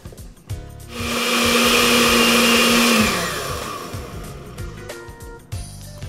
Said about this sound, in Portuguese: Por último, eu vou processar um pouco mais antes de colocar o fermento.